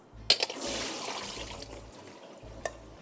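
Soaking water drained off cut zucchini (courgette) from a bowl: a sharp splash, then a short, moderately loud pour of liquid that trickles away.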